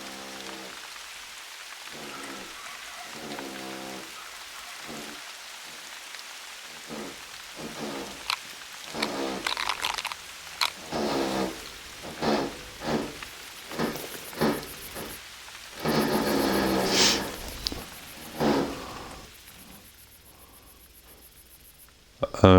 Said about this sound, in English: And the rain's gonna stop?